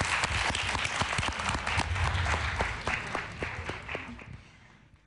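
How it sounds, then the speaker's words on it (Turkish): An audience applauds at a stage performance, steady crowd clapping with distinct individual claps that gradually thin and fade out toward the end. "Yeniden alkışlarla böyle seni sahnede bırakalım mı?"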